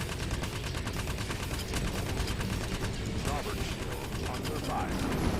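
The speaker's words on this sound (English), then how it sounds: "let me just use the Gatling cannon on this guy" A Gatling cannon on a Vanguard ship in Star Citizen fires sustained rapid bursts, a dense rattling stream of shots over the game's mechanical hum, with no speech.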